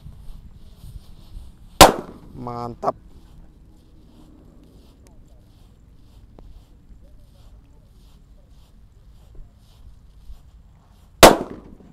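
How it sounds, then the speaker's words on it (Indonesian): Four disco firecrackers are set off, giving two sharp, loud bangs several seconds apart with a short burst of crackling after the first, while a voice speaks briefly. "Sudah menyala 4 sekaligus mercon disco. Ini bledosnya banter guys."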